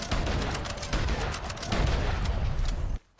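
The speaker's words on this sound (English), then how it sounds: "this is the rapid fire." Rapid-fire gunshots ring out in Red Dead Online, a fast unbroken volley of loud, booming shots lasting about three seconds before cutting off abruptly.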